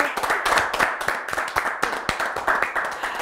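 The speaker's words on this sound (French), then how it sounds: "Merci beaucoup, merci, on vous applaudit." A small studio audience claps for guests on an African diaspora talk show, individual hand claps clearly distinct in a lively, uneven rhythm, close and unaccompanied by talk.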